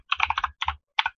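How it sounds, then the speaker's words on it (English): Computer keyboard keys tapped in short bursts, two quick clusters of clicks followed by a single press, close and crisp with brief gaps. "I'm trying to type at the same time"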